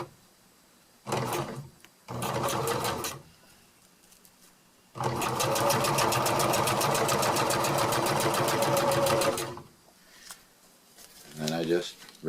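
A sewing machine stitches fabric for a DIY backpack pack cover in short bursts: two brief runs, then a longer steady whir of several seconds, then another short burst, close and clear with pauses between.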